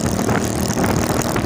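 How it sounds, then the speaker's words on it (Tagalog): Harley-Davidson motorcycle engine riding ahead on the road, a steady, loud, throbbing rumble with continuous wind and road noise, heard from close behind while following it, with no talk. "Naka twin engine yata ang makina nitong motor na to kasi parang helicopter yung tunog"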